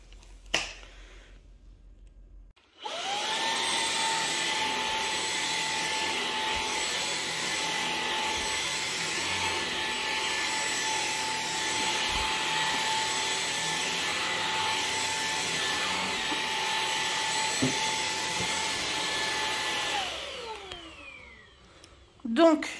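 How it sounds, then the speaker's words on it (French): A Dreame XR V10R cordless vacuum cleaner starts up and runs steadily with a loud, high whining drone while passing over a thick long-pile rug, then winds down and stops after about seventeen seconds. "j'ai passé le nouvel aspirateur sur le gros tapis de ma fille"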